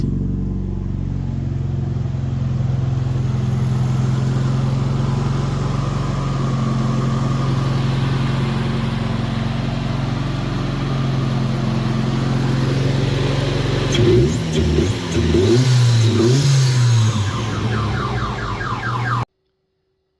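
A Mazda Miata engine, recently rebuilt after burning oil, runs steadily at a continuous drone, then revs up in a few quick rising and falling bursts near the end before cutting off.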